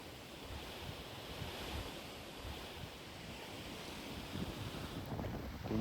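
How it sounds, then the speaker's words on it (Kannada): Strong wind at the Jog Falls viewpoint, buffeting the microphone with a steady roaring rush that swells slightly and grows louder toward the end, with no one speaking. "ತುಂಬ ಗಾಳಿ ಬರ್ತಾ ಇತ್ತು ಇಲ್ಲಿ."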